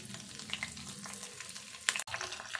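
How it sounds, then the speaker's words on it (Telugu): Cumin, mustard seeds and dried red chilies tempering in a little hot oil with a green chili added, a steady close sizzle and crackle with brief stirring knocks, no talking. "తాలింపు ఇట్లా వేగినాక ఒక పచ్చిమిర్చి వేసుకుందాము."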